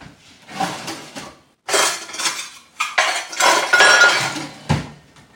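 Metal utensils and dishes clatter and clink in loud bursts as someone rummages through a kitchen drawer for a measuring cup, with brief pauses between the jumbles of rattling.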